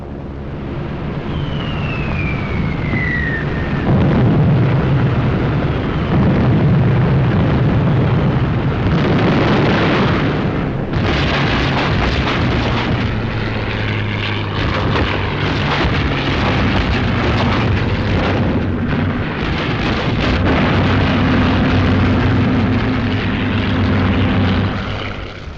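Bomb explosions and air attack in archival footage of the 1944 North African campaign in Tunisia: a loud, continuous roar of blasts and rumbling engines, with a brief descending whine early on.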